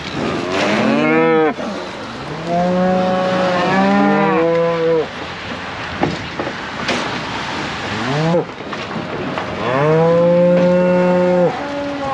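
Several cows moo one after another, long drawn-out calls overlapping at times, loud and nearby, with short pauses and a faint patter between calls.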